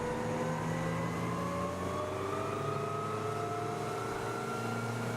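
A Yanmar-powered Hunt 24 boat accelerates from a standstill to 27 knots, its engine droning loud and steady with rising tones as it picks up speed, with no talking over it.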